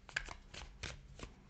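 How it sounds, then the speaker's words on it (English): Tarot cards being overhand shuffled up close, giving a quiet run of soft riffling slaps and brushes in uneven bursts, with no talking. "I'm trying to do an overhand shuffle where I like where the top card is"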